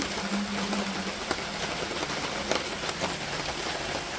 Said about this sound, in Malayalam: ഇപ്പോഴും മഴ പെയ്തുകൊണ്ടിരിക്കുകയാണ്.